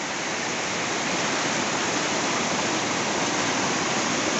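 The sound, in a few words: strong river current, rushing water in a mountain river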